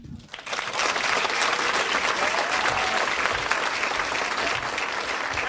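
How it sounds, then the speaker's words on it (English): Comedy club crowd applauding as a comedian is welcomed to the stage; after a brief quieter start, loud, dense clapping builds and holds steady to the end, with faint crowd voices mixed in. "Keep a nice applause going for Louis, ladies and gentlemen."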